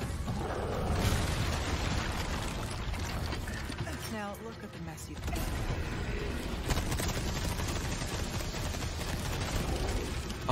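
Submachine gun fire in the video game Resident Evil 4 Remake rattles almost continuously in dense, noisy bursts, fairly loud, with players' voices talking over it.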